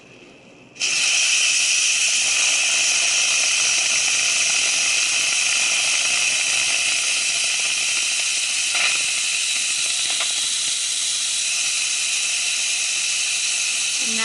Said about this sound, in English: I would show you guys releasing the steam on my pressure cooker.